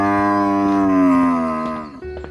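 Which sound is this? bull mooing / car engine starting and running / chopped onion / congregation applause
bull mooing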